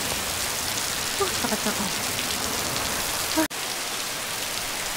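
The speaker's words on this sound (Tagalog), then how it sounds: "Pero inabot kami ng ulan." Steady rain falls on the surfaces around a group on Guimaras Island, a dense even hiss with someone speaking briefly over it and a short bump partway through.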